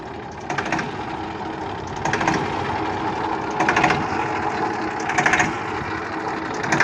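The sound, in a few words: Massey Ferguson 1035 DI tractor engine idling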